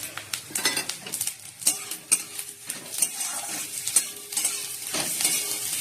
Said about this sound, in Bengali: নারকেলগুলো ভালো করে ভেজে নিলাম